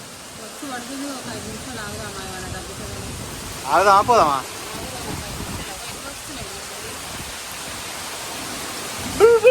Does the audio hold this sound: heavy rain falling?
yes